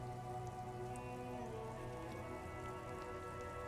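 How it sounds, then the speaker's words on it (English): Steady rain falls over the houses and war-torn tower blocks of a city district in Disco Elysium, a soft, even hiss of drops on surfaces with faint scattered patters throughout. "silvery curtain of rain over the houses"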